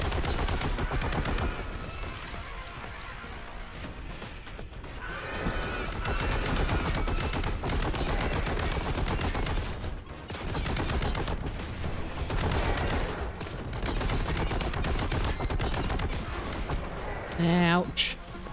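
Gunfire from weapons in the game Mosaic of the Strange, rapid repeated shots running almost continuously through a loud game soundtrack.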